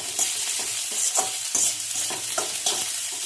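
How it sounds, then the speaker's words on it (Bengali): Close sizzling of chopped spinach frying with garlic in a hot pan, with repeated scraping stirs every half second or so, no voices. "পালং শাকটাকে কুচি কুচি করে রসুন ফোড়ন দিয়ে এটাকে আজকে ভাজা করব"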